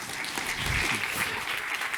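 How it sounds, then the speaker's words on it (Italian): Brief applause from a gathered audience: a dense, steady patter of clapping heard at a moderate distance, lasting about two seconds. "Un applauso a Giovanni."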